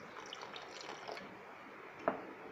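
Water is poured into a simmering curry gravy of cashews and corn in a home kitchen, heard as soft, faint trickling and dripping with a sharper splash near the end.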